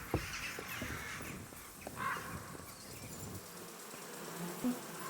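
Bees buzzing in the video game Kingdom Come: Deliverance II, a faint, steady insect drone mixed with a bird caw and scattered light clicks in a quiet outdoor scene.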